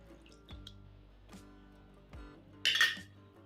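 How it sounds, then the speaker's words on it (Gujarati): Yogurt spooned into semolina in a bowl for rava dhokla: a few distinct metal-on-ceramic clinks of a spoon against the bowl, spaced apart, then a brief wetter clatter near the end, close and fairly quiet, with no talking. "રવાની અંદર આપણે જે દહીં રાખેલું છે એ નાખી દેશું"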